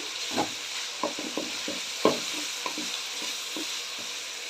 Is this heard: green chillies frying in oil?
yes